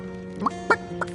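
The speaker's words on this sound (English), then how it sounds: "Don't let that rooster escape!" A rooster clucking in a video game, three short squawking clucks spaced apart over a low steady background hum, close and clear with no talk.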